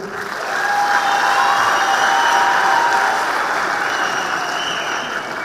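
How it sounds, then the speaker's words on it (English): Graduates at a skills-training graduation ceremony clap for themselves, a dense, steady wash of applause from a large crowd that swells in after a moment and holds evenly throughout, with faint cheering mixed in. "So, clap for yourselves."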